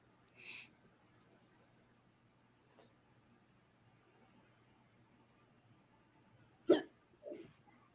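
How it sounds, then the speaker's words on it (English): A person hiccups several times, each a short, sharp catch spaced seconds apart: one early, one faint in the middle and two close together near the end, against a quiet background. "I have the hiccups."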